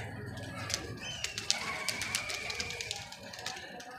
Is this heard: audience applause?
no